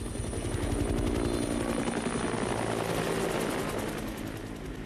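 A helicopter in the zombie video game Dead Rising flies close by, its rotor chopping in a loud, continuous rhythmic thump with a high engine whine, alone without talk.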